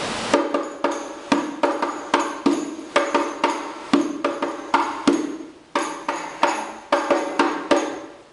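Hadroh frame drum played in a pause pattern joined to a rising pattern: repeated sharp, bright hand strikes in a steady, fast rhythm, with one brief gap partway, close and loud, no voices.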